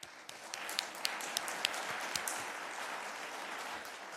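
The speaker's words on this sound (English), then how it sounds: "that deserves absolutely a round of applause" An audience at a police officers' swearing-in ceremony applauds a sergeant with 15 years of service, a fairly faint, steady patter of many hands with a few sharper claps, heard from a distance.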